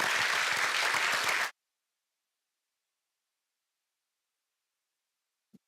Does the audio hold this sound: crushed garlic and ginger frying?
no